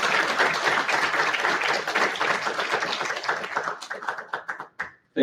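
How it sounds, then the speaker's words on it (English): Audience applause at a briefing for Dr. Avi Loeb: a dense round of clapping from a room of people, sustained for several seconds, then thinning into a few scattered claps before fading out. "So if we can just give him a quick round of applause."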